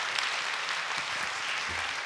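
Audience applause at the close of a lecture: a sustained, even patter of many hands clapping together in a hall, steady from start to finish.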